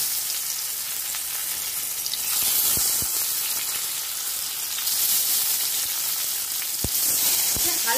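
Paneer paturi fries in a kadhai over a low flame, a steady close hiss of sizzling with a few sharp pops and ticks scattered through it, and no talk.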